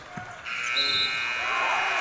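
Loud electronic buzzer ending a period in a high school basketball game between St. Laurence and Downers Grove South, holding steady for well over a second over crowd roar and echoing gym noise.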